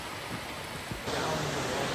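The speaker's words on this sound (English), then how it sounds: "That's a sick waterfall." Waterfall on the Ricketts Glen Falls Trail, heard as a steady broadband rush of falling water that grows louder and closer halfway through.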